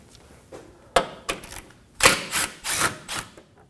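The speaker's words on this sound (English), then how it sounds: "Next, we're going to remove this Phillips head bolt." Phillips head bolt being worked loose from the fender liner of a 2014-2020 Acura MDX: a run of close, sharp mechanical clicks and ratcheting bursts, spaced irregularly then clustering toward the end.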